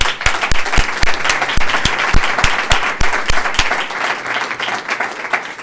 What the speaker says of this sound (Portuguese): me gustaría, para calentar un poco el ambiente, agradecérselo con un cálido aplauso